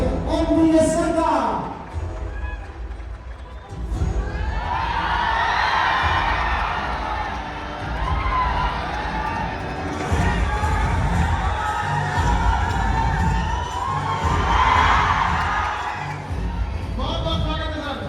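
A seminar crowd cheers, whoops and shouts to welcome a speaker, loud and sustained with excited voices and children's shouts, swelling in waves; a voice briefly speaks at the very start.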